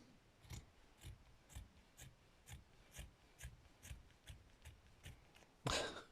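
Scissors snip in a slow, steady rhythm, about ten close, quiet cuts roughly half a second apart, while working on a gingerbread man stitchery piece with lace, ending in a louder rustle.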